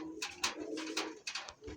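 White Sirazi and Lahori pigeons cooing close by, several soft throaty coos in quick, uneven succession over a quiet background, with no voices.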